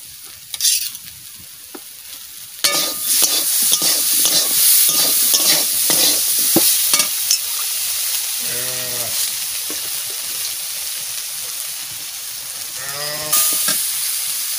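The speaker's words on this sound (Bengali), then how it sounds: "সয়াবিন কটা এর সাথে দিয়ে দেবো, একসাথে কষাই নেব।" Soybean chunks and potato stir-fry in a pan with steady sizzling and repeated rhythmic scraping of a spatula, plus a couple of brief tonal calls in the background.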